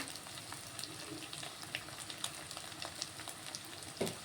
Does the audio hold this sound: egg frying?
yes